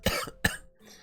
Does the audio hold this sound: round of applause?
no